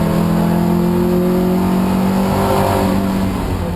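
Toyota MR2 race car engines roaring loudly and continuously on the Snetterton circuit, a steady close drone of several cars at racing speed with revving through a corner.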